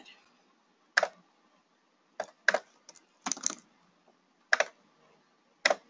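Separate keystrokes tap on a computer keyboard as someone types a real estate listing ad, about seven crisp, close clicks spaced irregularly with quiet pauses between them.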